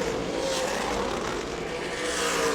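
Super late model stock cars race around an oval track in an ASA Southern Super Series event, their engines a loud, continuous roar close by that swells slightly near the end.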